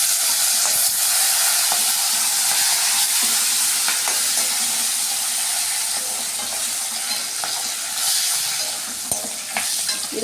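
Curry leaves and green chillies frying in hot oil with asafoetida for aval upma, a loud, steady close-up sizzle and hiss running throughout, dotted with light scraping stirs.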